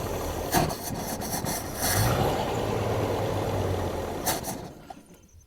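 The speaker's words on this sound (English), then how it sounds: "Nice, we get this thing idling." A Jeep YJ engine idles with a low steady rumble throughout, close by, with a few brief scraping and clattering noises over it before it fades at the end.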